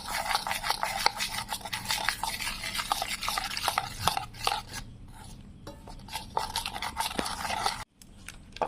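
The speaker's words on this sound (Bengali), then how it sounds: "অল্প অল্প জল দিয়ে ভালোভাবে ফিটিয়ে নিব।" Gram flour batter being beaten with a little water, a rapid rhythmic run of close wet slapping and clicking strokes that is steady for several seconds, then pauses and resumes briefly.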